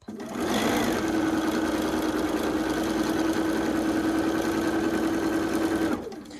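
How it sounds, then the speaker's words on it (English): A sewing machine stitches quilt block pieces in one steady, close run lasting several seconds, a constant whirring drone that starts and stops cleanly. "you can take a couple stitches, stop, then go down and match it up"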